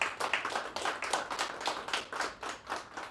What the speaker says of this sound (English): Yes, I think it deserves a round of applause.